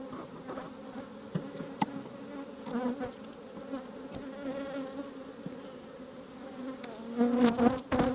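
Honey bees from an aggressive, strong hive hum in a steady, dense drone close by, with a few louder swells of buzzing near the end.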